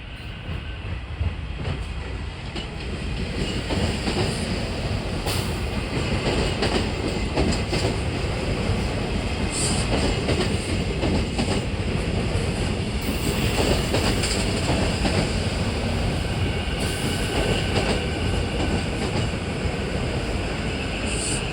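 A SEPTA Silverliner V commuter train bound for Malvern rolls past at Wayne Junction, with a loud, continuous roar of wheels on rails and rhythmic clicks throughout.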